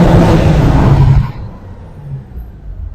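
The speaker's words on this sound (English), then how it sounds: "Big turbo noise." A tuned stage 2+ BMW 335i with the N54 engine blasts through a tunnel with a loud rushing turbo and engine roar that cuts off sharply, leaving a fading echo.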